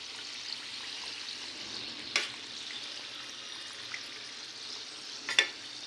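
Paneer samosas fry gently in oil over a low flame, giving a soft, steady sizzle throughout with a couple of brief clinks of a utensil stirring, close up, with no talk.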